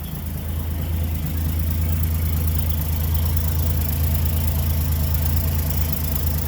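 A 1946 Chevy farm truck engine idles smoothly and steadily, a close, continuous low rumble with a firm even pulse and no voices over it.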